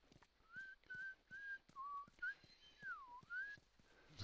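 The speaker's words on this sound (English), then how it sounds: "I can whistle too." A character in The Last of Us Remastered whistles a clear, near melody of about eight short rising and falling notes in a steady rhythm, with quiet game ambience between them and no talking.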